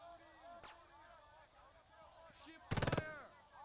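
Squad gunfire in the wartime video game Burden of Command: a tight burst of several rapid shots near the end, loud against quiet ambient game sound and faint tones.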